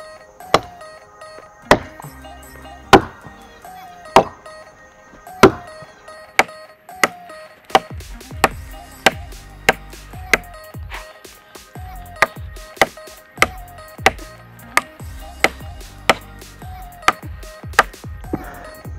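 A Cold Steel Trail Boss axe bites into a standing tree in a steady series of about eighteen sharp, loud thunks, spaced a second or so apart and quickening slightly toward the end, with no talk.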